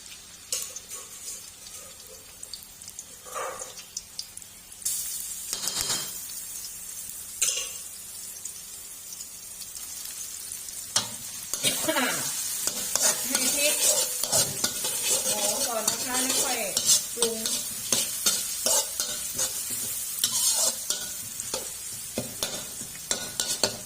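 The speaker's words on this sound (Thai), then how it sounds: "เอาพริกลงไปผัดนะคะ" Chilies stir-fry in a hot pan for mackerel basil stir-fry, with a steady sizzle, repeated scraping strokes of a spatula and occasional clinks of metal on the pan, growing busier partway through.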